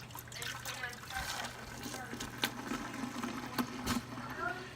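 Vanilla ice cream mixture being poured into the canister of a Cottage Craft Works hand-crank freezer, a steady soft trickle and splash with a low hum under it.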